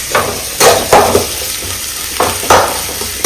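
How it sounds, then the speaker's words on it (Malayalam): Onions sizzle loudly in coconut oil in a pan while a spoon stirs them in regular scraping strokes, close and clear with no talk over it. "ഇനി ഒന്ന് നന്നായിട്ടൊന്ന് മൂപ്പിക്കട്ടെ കേട്ടോ"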